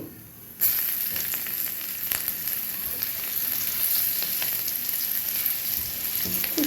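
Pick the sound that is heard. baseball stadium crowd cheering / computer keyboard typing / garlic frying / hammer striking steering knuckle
garlic frying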